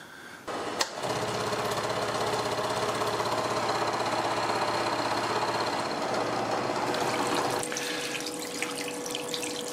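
A machine cuts metal on a 300mm sine tilting table while coolant sprays from a nozzle, producing a steady hissing, splashing flow with a rhythmic mechanical knock beneath it. A sharp click comes just before the flow starts, and the sound eases near the end.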